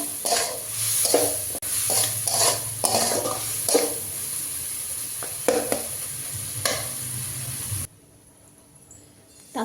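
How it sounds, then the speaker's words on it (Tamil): Tomatoes, onion, garlic and dried red chillies sauté in a pan while being stirred, with repeated scraping strokes over a steady sizzle that cuts off near the end; no talking. "தக்காளி நல்லா வதங்கணும்"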